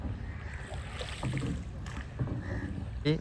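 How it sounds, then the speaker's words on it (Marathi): A fishing boat comes in on the water after clam gathering, its hull and engine a steady low wash with wind and splashing throughout and a louder knock near the end, no talking. "बोट आलेली आहे बघा जाली काढून"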